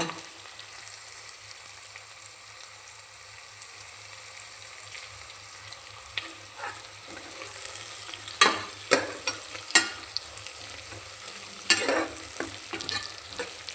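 Mixed vegetables frying in ghee for vegetable ghee rice hiss with a soft steady sizzle, then a spoon scrapes and stirs the pan in several sharp bursts toward the end.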